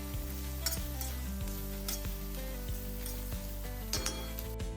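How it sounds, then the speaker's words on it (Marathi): Sliced onions, garlic and ginger sizzle steadily in a hot pan, with a few scrapes and clinks of a stirring spoon against the metal. "त्यानंतर मी घालते उभे चिरलेले कांदे, परतवून घेऊ छान."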